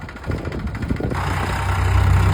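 Tractor engine passing close by, a loud low rumbling drone that grows heavier and fuller as it approaches, with no talk.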